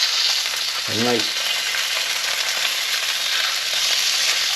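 Mackerel fillets sizzle loudly in a pan right after being flipped, a dense, continuous crackling hiss; a brief voice speaks early on over the frying.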